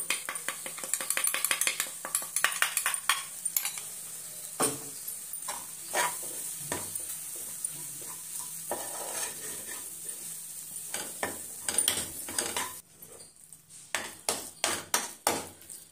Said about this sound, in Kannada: ಒಂದು 3 ರಿಂದ 4 ನಿಮಿಷ ಚೆನ್ನಾಗಿ ಹುರ್ಕೊಳ್ಳೋಣ